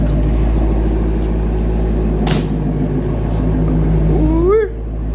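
A 2020 Shelby GT350 V8 idles loudly after a cold start, a steady deep rumble with a brief hissing burst midway and a rising whine before the roar dips at the end.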